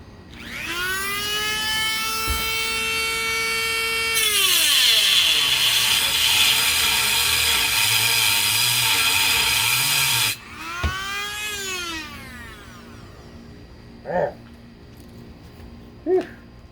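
A Dremel rotary tool cuts a fiberglass brace for a 1969 Corvette C3 diffuser outdoors. The whine ramps up, holds for several seconds, winds down, then returns in a short burst followed by a few faint clicks.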